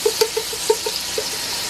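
Tomato sauce poured into a pan of frying Puerto Rican meatballs, a soft broadband sizzle with a few short stirring scrapes and clinks at uneven intervals, close and moderate in level.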